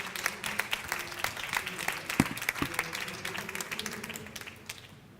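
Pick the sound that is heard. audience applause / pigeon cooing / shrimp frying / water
audience applause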